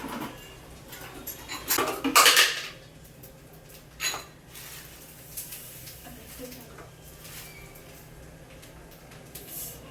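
A spoon scrapes and clinks in a jar of homemade Khandeshi chilli pickle while pickle is scooped into a bowl, with a dense burst of metallic clatter early, then sparser knocks and quiet gaps.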